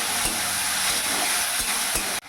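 Turmeric, cumin and coriander masala frying in a pan with a splash of water gives a steady close sizzle, with a few soft stirring scrapes through the short stretch before it cuts off.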